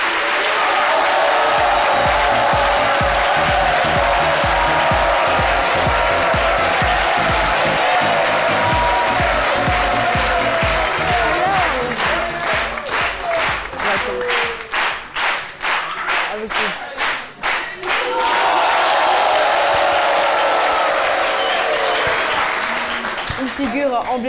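Loud, sustained applause from a large audience greeting an African gospel singer, rising into a dense burst of clapping mid-way, then fading as an announcer speaks over it.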